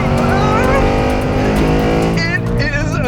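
Ford Mustang Dark Horse V8 from 2024, making 500 horsepower through twin throttle bodies, revs loudly and continuously with a dense, rumbling engine roar over about three seconds, close up and dominant.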